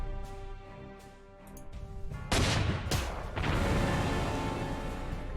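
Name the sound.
artillery fire in the video game Panzer Corps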